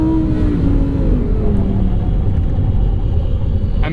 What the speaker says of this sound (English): I mean, that's a lot of ABS.